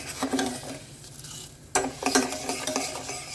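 Dry raw moong dal and cumin seeds frying slowly in oil, with a steady soft sizzle broken by scraping spatula strokes and light clinks against the pan, a quieter lull midway before the stirring picks up again.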